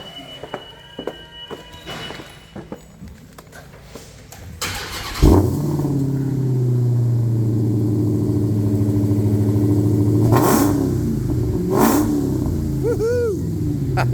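A supercharged 720 hp Hellcat V8 in a 2022 Ram TRX cranks over after a few footsteps and fires up loudly, then settles into a deep, steady idle with a couple of brief blips of the throttle near the end.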